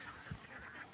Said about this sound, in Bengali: হাঁস দিয়ে একেবারে পুরো ভরে গিয়েছে।